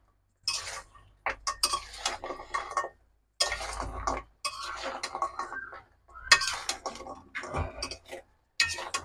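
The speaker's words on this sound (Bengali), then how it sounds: "দিয়ে ভালো করে নেড়েচে মিশাইতে হবে গুড়ের সাথে" Murali being stirred into melted jaggery in a pan: intermittent scraping and clinking of a spoon against metal in short bursts, separated by brief silences, close and fairly quiet.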